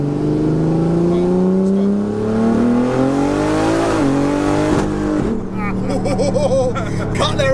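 A heavily modified BMW roars as it accelerates in third gear on a dyno, the engine pitch rising steadily before cutting out and stuttering with a fuel-feed fault. It is loud and close, with voices talking over it.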